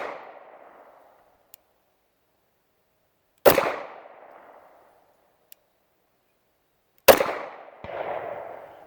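Two loud, sharp pistol shots from a Girson Compact High Power ring out a few seconds apart, each followed by a short decaying echo, with faint clicks in the quiet between them.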